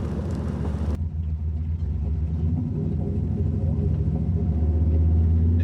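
A restored truck's engine runs after sitting unstarted for nine years. It makes a steady, close, low rumble that swells slightly louder toward the end, as if loading up, with no one speaking.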